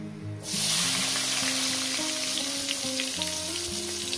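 Onions drop into hot oil seasoned with bay leaf and whole spices for a soybean curry, setting off a sudden loud sizzle that holds as a steady, close frying hiss with faint tonal hum beneath.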